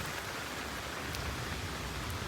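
Rain falling steadily on a sand surface, a dense even hiss of drops with no pauses or voices.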